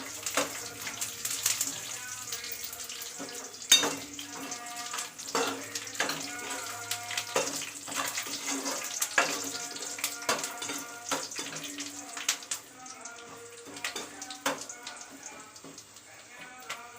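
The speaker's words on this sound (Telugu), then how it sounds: "అవన్నీ వేసి కాస్త ఫ్రై చేద్దాము" Onions, curry leaves and peanuts frying in hot oil in a pan, a steady close sizzle with bright crackles and pops, while a voice talks over it at times.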